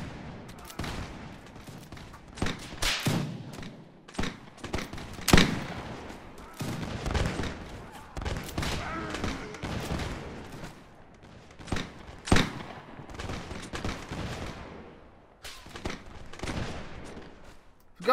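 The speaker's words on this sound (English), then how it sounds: "those French are pretty good shots." Musket volleys crack and pop repeatedly in a Napoleonic-era battle in Mount & Blade, scattered shots and ragged fusillades of varying distance firing irregularly throughout, with loud nearby bangs standing out.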